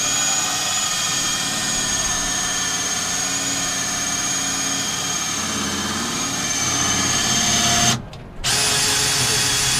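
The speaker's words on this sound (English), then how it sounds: "this motorcycle, I'll call it contraption, actually runs on a cordless drill" A cordless drill runs a motorcycle lift, giving a steady, loud whining motor drone that holds constant for several seconds before a brief cutoff and restart near the end.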